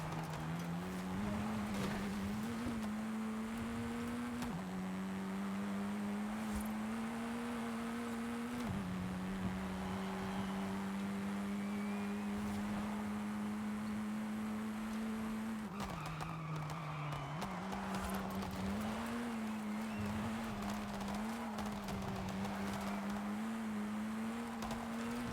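A Lamborghini engine driving in third gear, a loud sustained drone that climbs in pitch, drops at shifts and climbs again across several pulls, with some tire or road noise underneath.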